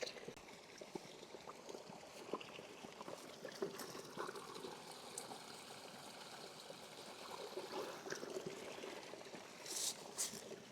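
Water bottles being filled at a small stream while backpacking in the Smokies, a soft continuous trickle and babble of flowing water, faint and steady, with light splashes near the end.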